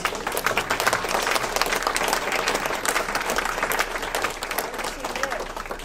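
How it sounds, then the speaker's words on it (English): An audience at an evening concert show gives a big, dense round of applause, loud and continuous, with faint voices mixed in. "we also should give a big round of applause to Robert Hitz"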